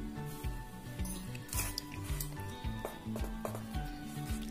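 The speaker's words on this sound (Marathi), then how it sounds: "आता हे सर्व साहित्य आपण परत एकदा मिक्स करून घेऊ।" Cake batter of flour and baking soda being mixed in a bowl, a rhythmic series of soft scraping and squishing strokes repeating close by, with no talking.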